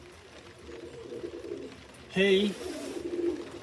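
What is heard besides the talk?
pigeons cooing in a loft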